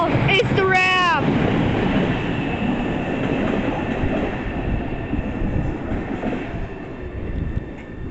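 An MBTA train at Forest Hills station rumbles loudly and steadily with a broad rushing roar, opening with a brief high wheel squeal; voices can be heard faintly beneath it.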